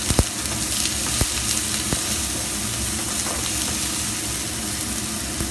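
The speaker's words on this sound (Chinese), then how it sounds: "咁爆香啲料頭啦" Aromatics crackling and sizzling in hot oil in a wok for a home-style stir-fry, a steady dense fry with a few sharp pops and light stirring scrapes, close up and without talk.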